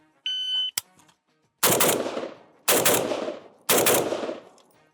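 Modified AK rifle fired in a shooting test: a short electronic timer beep and a sharp pop, then three loud, close bursts of rapid automatic fire separated by brief pauses.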